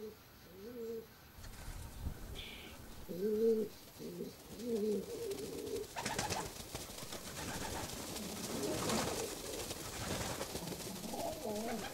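Birds, likely pigeons or doves, cooing from nooks in the ancient walls of an old well, several soft repeated coos close by against a quiet background with a faint rustle.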